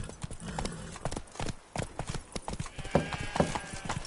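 Horse galloping in the video game Witcher 3, with a steady, close clip-clop of hooves running through the whole stretch and a possible brief whinny.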